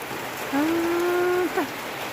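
Rain falls steadily in the rural Thai countryside during the rice harvest, a soft even hiss throughout, with a brief high whining tone rising over it midway.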